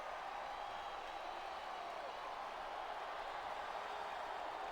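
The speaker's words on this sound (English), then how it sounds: "I love hearing the crowd come alive" A wrestling arena crowd in the PS2 game Smackdown vs Raw 2007 gives a constant, faint hissing roar with no distinct claps or cheers.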